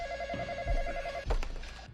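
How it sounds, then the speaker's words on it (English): A telephone rings in a dramatized TV drama scene, its repeated electronic trill clear over a low background hum, then cut off as a heavy thud lands. "and then the phone rings."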